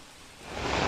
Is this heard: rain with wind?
yes